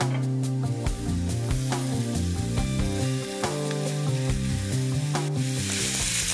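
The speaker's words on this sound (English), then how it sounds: "we're gonna add in our pork and our beef. On top. We're gonna break this up" Ground pork and beef sizzling in a pan as they are broken up and stirred, a steady hiss of frying that plays under prominent background music.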